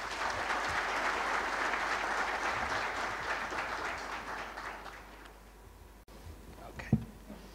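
A seated audience gives a warm round of applause after a presentation to a distinguished group, steady crowd clapping that gradually thins and fades, with a brief thump near the end.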